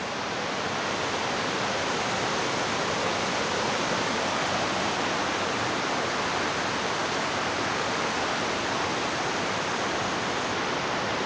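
Oxford Falls Cascades, a waterfall in Sydney swollen after a day of heavy rain, sends out a steady, loud, close rush of running water that holds unbroken for the whole stretch.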